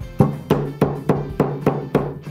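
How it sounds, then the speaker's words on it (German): Seven sharp hammer blows strike plants laid on fabric and secured with transparent tape for eco printing, landing at a steady, even rhythm, each one loud and close with a brief ringing decay. "Und jetzt wird gehämmert."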